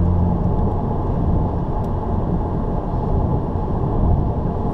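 A 2015 Subaru WRX cruises on the highway at 70 mph and about 2,600 RPM, giving a steady, loud low rumble of engine and road noise heard from inside the car with no talking.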